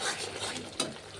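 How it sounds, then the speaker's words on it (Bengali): A short burst of stirring in a pan as masala with tomato and green chilli is stir-fried in oil, a soft scraping sizzle with one brief louder scrape near the end. "মশলাটিকে একটু ভালোভাবে কষিয়ে রান্না করে নেব,"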